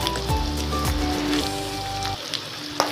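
Curry leaves and dried red chillies fry in oil with a steady close sizzle and some crackle. A low hum is mixed in, and there are a few sharper pops near the end.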